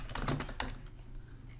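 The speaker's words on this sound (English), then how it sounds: "let's start with just typing in the name of the template" Typing on a computer keyboard: a few quick key clicks in a short burst up close, then quiet room tone.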